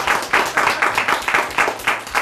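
A crowd claps steadily in a rhythmic, pulsing applause that carries on throughout.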